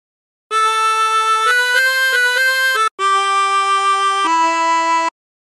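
A phrase of The Battle Hymn of the Republic is played on a 20-hole tremolo harmonica in two bright, wavering reedy passages of several held notes each. The close, loud melody plays alone.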